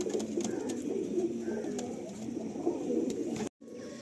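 Andhra, Madrasi and Malwai pigeons coo softly and repeatedly at close range among rustling and small noises, the sound breaking off briefly near the end.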